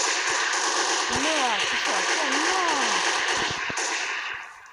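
Rapid machine-gun bursts from a Minecraft game blast in quick repeated volleys over a steady loud background, with talk from players nearby.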